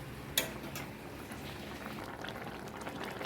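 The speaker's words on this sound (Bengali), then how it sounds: "লোটে মাছের ঝোল চলছে রান্না।" Bombay duck fish curry bubbling in a pot, a steady low simmering hiss with soft pops and a sharp clink near the start, continuous and close.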